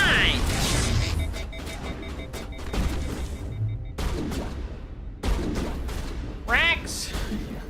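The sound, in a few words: gunfire from the video game Mass Effect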